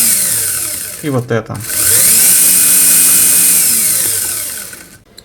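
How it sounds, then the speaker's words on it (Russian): A soft-start sliding gate drive motor winds up with a rising whine, briefly stutters, then runs steadily at a loud, even pitch before slowing down at the end, while a voice speaks briefly. "Очень мягкий привод с плавным стартом"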